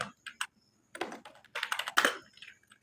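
Typing on a computer keyboard comes through as irregular bursts of soft clicking keystrokes, close and fairly quiet, with short pauses between clusters and no talking.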